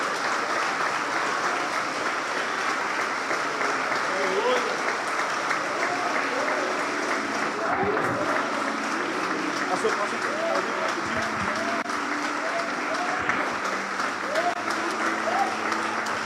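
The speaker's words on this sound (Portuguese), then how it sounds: "se você acha que Jesus é digno de uma calorosa, linda e duradoura, eu disse duradoura, salva de palmas, assim o faça" A church congregation gives Jesus a long, warm round of applause during a sermon on the biblical doctrine of hell, dense clapping sustained evenly throughout, with a few voices rising faintly beneath it.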